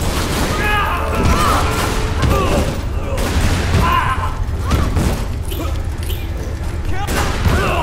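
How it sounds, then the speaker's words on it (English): Gunfire in the video game Tomb Raider: Underworld comes as scattered bursts and bangs mixed with impacts and game effects, under continuous talking. "getting shot at"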